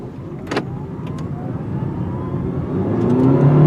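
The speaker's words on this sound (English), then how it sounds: "So let's see if we can lay some rubber here." A plug-in hybrid car accelerates hard from a standstill, its motor whir and road noise rising steadily over a few seconds, heard from inside the cabin with a couple of brief clicks early on.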